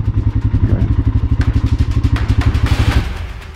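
Thumping, rapid engine pulses from a 190 kg loaded adventure enduro motorcycle riding off-road on a steep alpine slope, loud and close, with a slight rise in revs before fading.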